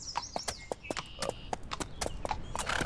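A donkey mount's hooves clip-clop in a Skyrim-like video game, a steady close rhythm of sharp clacks at walking pace, with faint game ambience and brief whistling tones behind.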